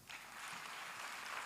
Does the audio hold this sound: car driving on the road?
no